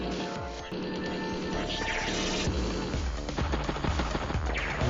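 Rapid bursts of mech unit gunfire from an attack in the video game Advance Wars: Days of Ruin, dense and continuous over a game soundtrack, loud throughout with no talk.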